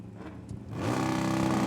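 At a drag racing event, a drag racing car engine idles low, then climbs into a loud, buzzing rev before the start, the rough harmonic drone swelling and holding.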